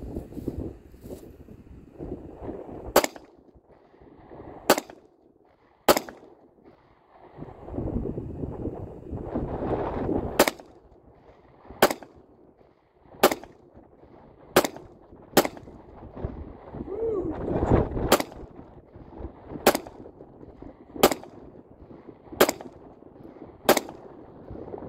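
Grisan MC P35 pistol fired outdoors on a range, around fifteen sharp, loud shots spaced a second or two apart, with wind buffeting the microphone between rounds.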